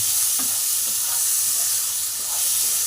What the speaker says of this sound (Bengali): চিংড়ি মাছটাকেও আমি হালকা করে ভেজে তুলে নেব